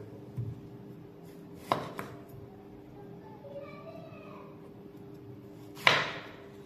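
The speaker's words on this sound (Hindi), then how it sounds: "हमने 7 से 8 टमाटो कटिंग कर ली।" A knife chops tomatoes on a board for Shinwari kaleji karahi, a few sharp isolated thuds spread out among quiet background noise and faint distant voices.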